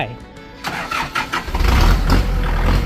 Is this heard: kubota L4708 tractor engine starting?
yes